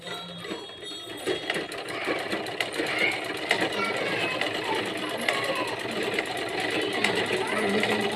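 A sewing machine stitching a frock runs steadily with a fast, even mechanical chatter, close by and moderately loud, while someone talks over it.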